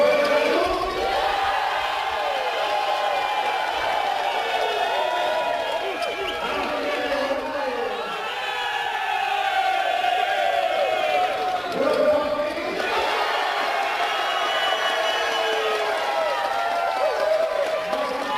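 A crowd at a poker tournament cheers for player Billy Pappas, a steady roar of voices and shouts that swells and holds throughout, loud and dense, with commentary speaking over it.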